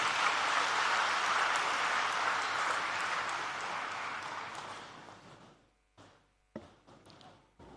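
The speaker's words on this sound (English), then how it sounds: "Let's have a huge round of applause." An audience at a university inauguration and orientation for first-year classes applauds, a dense wash of clapping that slowly fades out. A few isolated knocks or taps follow.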